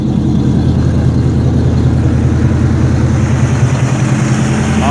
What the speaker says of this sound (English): Now you can hear the exhaust note without it.